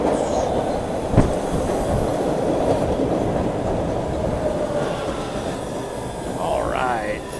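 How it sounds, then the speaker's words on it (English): A train pulls into a station, a continuous loud rumble of wheels on rail with clickety-clack and a brief squeal of wheels near the end, heard alone without talk. "here comes the train, so mind the yellow platform line as the train enters the station"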